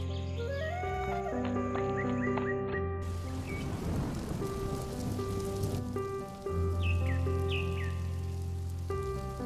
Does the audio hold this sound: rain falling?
yes